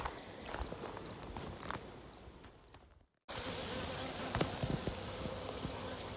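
Bees buzzing in a bee yard beside farm hives, a continuous high insect drone that drops out briefly midway and returns louder, with faint rustles and steps underneath.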